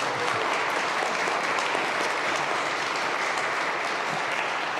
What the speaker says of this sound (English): Yeah, it's applause-worthy